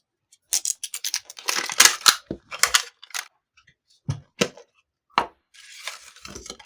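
A plastic Miniverse Diner blind ball being cracked open, with a burst of crinkling, snapping and clicking plastic sounds, then scattered sharp clicks and rustles as pieces are handled, close up with no talking.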